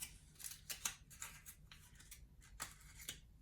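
A paper envelope holding a twin sewing needle being torn and opened, quiet crisp rustles and snips in short uneven bursts, close and faint.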